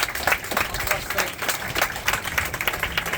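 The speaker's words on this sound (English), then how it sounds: "give yourselves a round of applause, everybody, for completing" Runners gathered after a Welsh pilgrimage ultramarathon clap together, a moderate, uneven patter of many hands with occasional louder bursts, a voice talking over it.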